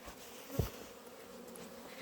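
Honey bees at an apiary make a faint, steady buzzing hum, with a brief louder buzz as one passes close, and no talking.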